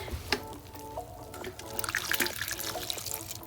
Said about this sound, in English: we're gonna go ahead and just give it some water